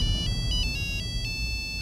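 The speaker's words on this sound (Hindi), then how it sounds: "वो वहां बज रहा है। बेबी फोन देखो ना सर।" A mobile phone ringtone plays in short repeating electronic bursts over a steady low hum, with no one speaking over it.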